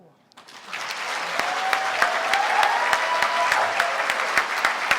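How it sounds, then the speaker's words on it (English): Audience applause at the SIRCC Awards 2019 ceremony swells up after a brief quiet start, then holds as steady dense clapping with a few sharper individual claps standing out. "I hope you're listening to that applause, astronaut."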